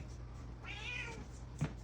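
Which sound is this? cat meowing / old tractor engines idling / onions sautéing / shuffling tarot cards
cat meowing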